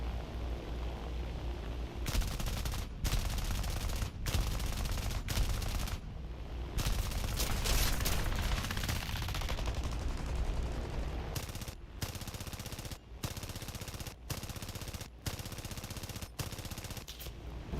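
Aircraft guns in War Thunder firing in long, loud, continuous bursts, separated by a few abrupt short pauses, over a constant rumbling drone with no talking.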